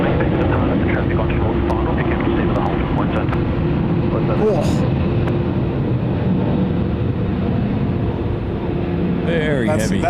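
A heavily loaded Qantas Airbus A380 departs Sydney Airport at night, its loud, steady jet roar filling the full stretch with a dense, broad rumble, while voices murmur faintly underneath.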